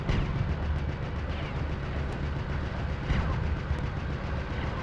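A train in the video game Tiny Tank rumbles steadily for several seconds, a dense, even roar with faint clanks and sharp impacts popping up at intervals.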